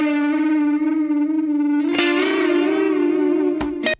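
An electric guitar lick runs through distortion and effects, a sustained, saturated note line with reverb and chorus, loud and close, shifting pitch midway and ending with a couple of sharp hits before cutting off.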